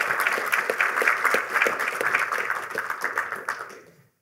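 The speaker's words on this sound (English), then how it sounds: "So a huge applause, please, for the team that made the project real." An audience at Unreal Fest 2022 breaks into applause, a dense burst of clapping that sounds close and strong before it thins out and stops abruptly.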